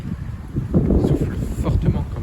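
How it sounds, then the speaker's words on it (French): Strong wind gusts sweep across an open field on the edge of a violent storm, buffeting the microphone with loud, uneven low roaring surges while someone talks. "De fortes rafales de vent quand même."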